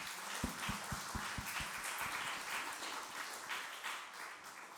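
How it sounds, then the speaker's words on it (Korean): A church congregation at a Sunday service claps briefly and faintly, a short run of distinct claps early on that fades into the quiet murmur of the room. "축복의 박수 부탁드리겠습니다"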